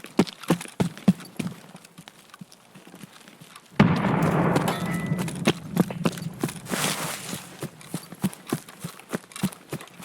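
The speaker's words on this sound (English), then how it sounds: "We are going to throw this grenade back this way." A grenade blast in the shooter game Escape from Tarkov: one sharp, loud burst followed by a rumbling decay, set among scattered footstep-like clicks and thumps before and after.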